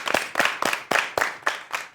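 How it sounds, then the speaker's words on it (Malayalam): Children clap together for a classroom chart, giving a short run of about eight sharp, evenly spaced claps up close with no voices. "അപ്പോൾ നിങ്ങളുടെ ഈ ചാർട്ടിന് നല്ല ഒരു കൈയടി."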